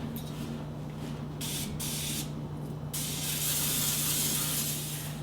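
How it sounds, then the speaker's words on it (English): Cooking spray oil hisses out of a nearly empty can into a baking pan, in short close bursts followed by a longer continuous spray, with a steady background hum. "So I will grease the pan though, because, you know, I don't want them to stick horribly to the pan itself. Ugh, running out of spray oil."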